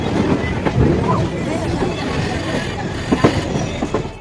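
A passenger train departs on the line beside a Garib Rath at a station on the Delhi–Haridwar route, with steady low rumble, rolling wheel noise and a few sharp metallic clanks late on, close and fairly loud under faint background chatter.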